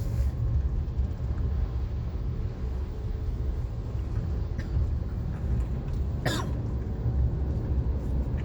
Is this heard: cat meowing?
no